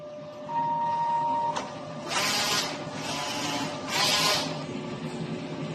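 A DTF printer runs a nozzle test, giving a steady mechanical hum broken by a sharp click and three loud hissing, whirring passes of the print head sweeping back and forth.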